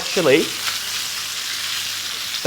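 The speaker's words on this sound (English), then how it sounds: "These meatballs now have been in for about 2 minutes. You can hear them sizzling." Steady sizzling of meatballs frying in a pan, a continuous crackly hiss with a brief scrape of stirring at the start and end.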